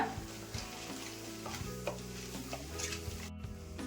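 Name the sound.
chana dal and urad dal frying in hot oil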